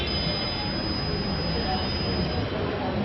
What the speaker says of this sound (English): Every component give beep.